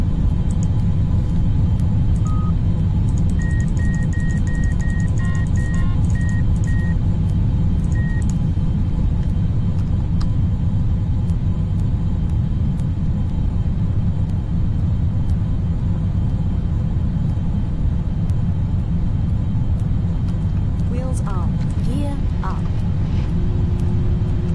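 XR2 spaceplane launch in the Orbiter 2010 space simulator. A deep, steady engine roar runs loud and unbroken throughout, with a few short electronic beeps and tones early on and near the end.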